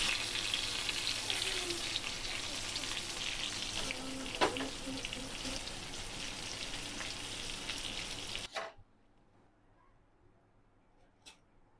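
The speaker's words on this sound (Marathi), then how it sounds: "मी हे दुसरे 2 बांगडे पण फ्राय करून घेते" Mackerel (bangda) fish frying on a hot tawa gives a steady, close, crackling sizzle that runs loud for about eight seconds, then cuts off abruptly into near silence with a faint clink.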